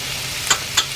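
Onion, tomato and capsicum sauté in a pan with a steady soft sizzle, broken by two quick scraping stirs, close up and without voices.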